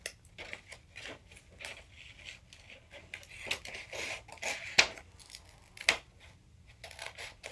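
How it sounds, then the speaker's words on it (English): Scissors snip through folded origami paper in soft, close, irregular cuts, with two sharper snips standing out in a quiet room. "Then take out your scissors. And try and cut exactly"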